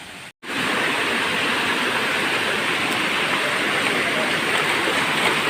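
A waterfall and stream pour over rocks along a pilgrimage trail, a loud, steady broadband rush of water that holds unbroken after a brief dropout at the start.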